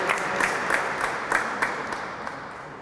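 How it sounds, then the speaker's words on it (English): A crowd claps continuously at a city hall ribbon-cutting ceremony, a dense, even roar of applause with individual claps popping out at a steady pace throughout. "Please give them all a round of applause"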